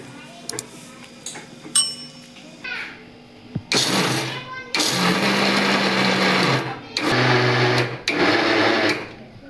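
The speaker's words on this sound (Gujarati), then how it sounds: "માંડવીને છે ને આ છે ને મિક્સરમાં આપણે પીસવાની છે" A mixer grinder grinds roasted peanuts for chikki, running in several loud whirring bursts with short pauses between them, after a few seconds of quieter kitchen sounds and talk.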